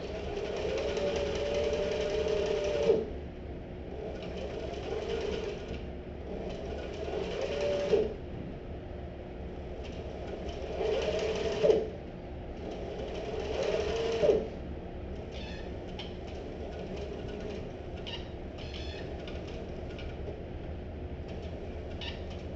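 A sewing machine stitches piping onto a messenger bag in several quick, whirring bursts separated by short pauses, close and steady, ending with lighter mechanical clicks and shuffling.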